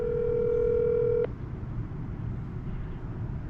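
A steady telephone tone sounds for just over a second, then cuts off abruptly, leaving only a low background hum.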